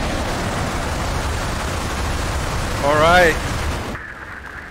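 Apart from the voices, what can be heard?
rocket launch liftoff in Mars Horizon video game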